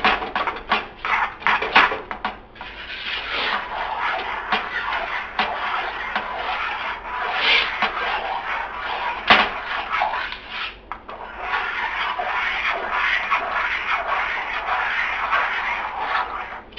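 A spoon scrapes and rubs around a pot of thick cheese sauce for macaroni and cheese, with irregular scraping strokes at first that settle into a steady, continuous rasping stir close by.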